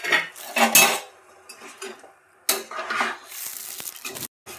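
A metal spatula scrapes and clatters around a pan of chilli chicken in gravy, in irregular bursts of stirring with short pauses in between, close and fairly loud.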